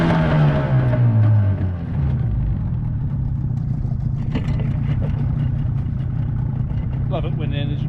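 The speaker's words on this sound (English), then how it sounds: "Love it when the engine starts first time." A boat engine catches and starts on the first try, a low mid-pitched motor that settles into a steady running drone, with clattering and small knocks near the end.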